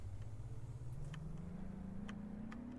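An electric trolley bus motor in a Roblox game gives a low whine that rises steadily in pitch as it speeds up, with faint ticking clicks over a quiet background and no speech.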